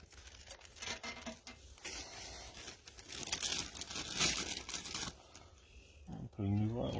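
A plastic bag crinkles and rustles up close as a spore trap sample is bagged, a steady run of soft crackling handling noise with a short voice near the end.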